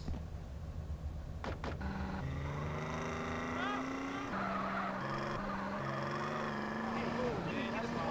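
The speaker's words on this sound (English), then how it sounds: "we're going to go ahead and jack a car here and just take Sweet home" In GTA San Andreas, a car engine revs and shifts pitch as it drives, with tire skids and squeals layered over the steady motor and game noise.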